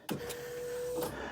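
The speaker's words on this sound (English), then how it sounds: "There's the fuel pump." An electric fuel pump on a Smart Fortwo 450 primes with a steady, faint whine lasting about a second, bracketed by small clicks at the start and end.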